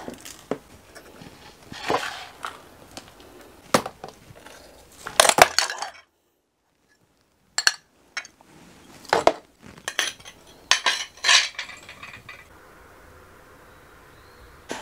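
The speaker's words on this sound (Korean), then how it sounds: "저 같은 경우는 지금 가위를 이용하고 있습니다" Scissors snip through a houseplant's roots during repotting, with crisp, irregular clicks and rustles up close, in bursts separated by a brief silent pause, alone without talk.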